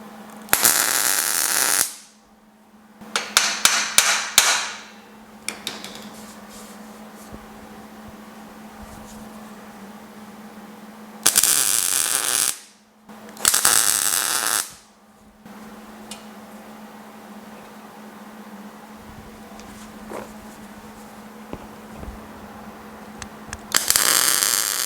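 A welder tack welding a car chassis on a DIY frame jig for a GTO restomod, giving several loud, crackling bursts of a few seconds each, separated by quieter stretches of steady hum.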